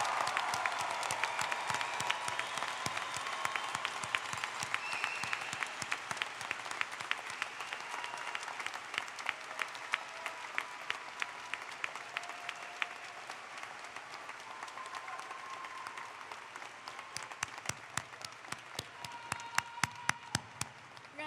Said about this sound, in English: And give our graduates a heavy round of applause.